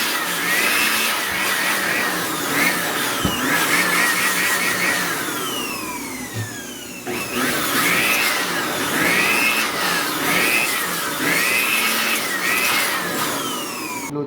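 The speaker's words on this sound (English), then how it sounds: "get a blower and blow the fins, clean it up." An air blower cleans dust from the heatsink fins, fan and power supply of a PS3 console, a steady loud rushing hiss that runs through the whole stretch with a brief dip midway, no voices.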